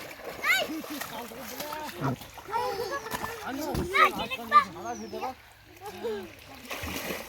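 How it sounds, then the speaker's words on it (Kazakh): Children swimming outdoors on a family picnic, water splashing in irregular bursts beneath frequent chatter and children's voices close by. "Күшті шомылып жатыр."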